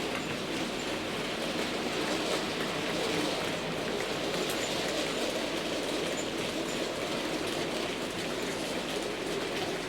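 A Robert Stephenson model locomotive runs on a DC analogue layout, producing a continuous, even rolling rumble and rattle that stays steady and close for about ten seconds with no voices.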